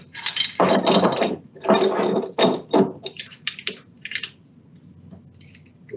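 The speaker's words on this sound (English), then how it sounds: "We use the O-ring and the other electrode holder, and then we just clamp this together" Two electrode holders with an O-ring between them are clamped together on a nanoparticle reactor head, giving a run of close, dry mechanical clicks and rattling metal contacts in uneven bursts that thin out toward the end.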